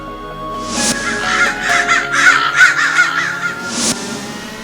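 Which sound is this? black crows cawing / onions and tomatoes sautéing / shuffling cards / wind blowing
black crows cawing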